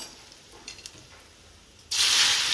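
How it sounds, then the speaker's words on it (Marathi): Mustard seeds, turmeric and asafoetida dropped into hot oil: a few faint pops, then a sudden loud, steady sizzle and hiss that continues to the end. "आता तेल गरम झालं आहे, आपण याच्यामध्ये मोहरी घालतो आहोत."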